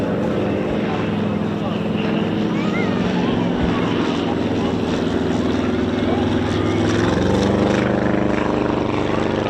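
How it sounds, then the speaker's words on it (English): Two aircraft fly in low at the RAF East Kirkby airshow, making a loud, continuous engine drone that swells slightly toward the end with no break. "Keep your eyes on the 2 aircraft coming in now"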